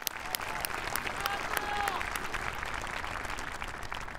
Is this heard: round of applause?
yes